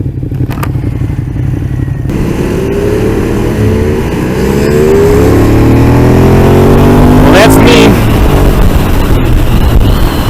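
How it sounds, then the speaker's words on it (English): A Ducati Monster 821 motorcycle at full throttle, its engine note climbing steadily as it accelerates in third gear, loud and close with wind rumble, while a rider's voice is faintly present. "That was me pinning the throttle."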